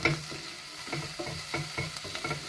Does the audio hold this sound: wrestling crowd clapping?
no